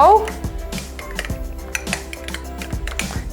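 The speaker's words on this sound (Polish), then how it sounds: "I teraz wszystkie sosy mieszamy ze sobą" A spoon stirs several burger sauces, including honey mustard, together in a bowl, making close, repeated clinks and taps against the bowl roughly every half second, with light scraping between strikes.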